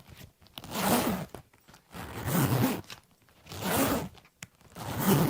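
A kangaroo leather jacket's sleeve zipper pulled slowly several times in a row, close and fairly quiet, each long rasping stroke separated by short pauses.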